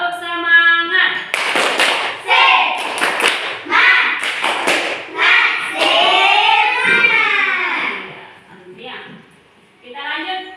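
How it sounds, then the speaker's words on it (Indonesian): Schoolchildren in a classroom perform a rhythmic spirit clap, sharp hand claps in quick patterned bursts mixed with loud chanting voices, close and lively throughout. "Tepuk semangat."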